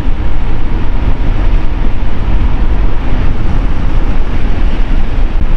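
A motorcycle cruising at about 60 km/h on a wide multi-lane road in Bataan gives a steady, loud engine and wind roar that runs unbroken through the clip, with no talking.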